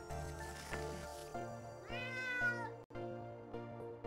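A cat meows in the video game Emily the Strange, a clear, rising and falling mewl set against a steady layer of game music and ambience, with no talk over it.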